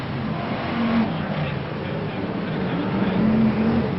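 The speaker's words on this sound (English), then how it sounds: "So Johnny Goodall in car number 5 then, leading the pack" BriSCA Formula 1 stock cars race round the Boston track in 1992, a constant, somewhat distant engine roar that rises and falls slightly under a commentator's voice.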